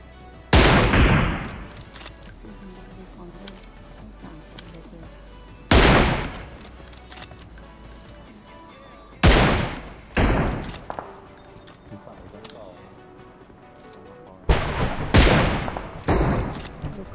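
PUBG Mobile gunfire: several loud, sharp bursts of shots in separate clusters, some rapid follow-up rounds, with quieter gaps between, close and dominant.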